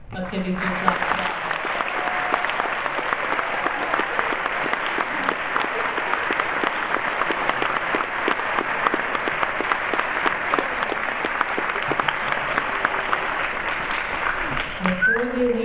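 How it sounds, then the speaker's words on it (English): A school audience applauds steadily for graduating fifth-grade students, dense clapping sustained at an even level for about fifteen seconds before it tapers off at the very end. "Let's give these students a round of applause."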